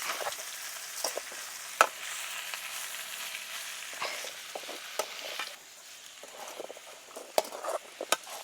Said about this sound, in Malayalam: ഇനി നമ്മൾ മിക്സാക്കി വെച്ചത് ഇതിലേക്ക് ഇട്ട് കൊടുക്കാം. നമുക്ക് നന്നായിട്ടൊന്ന് ഇളക്കി കൊടുക്കാം.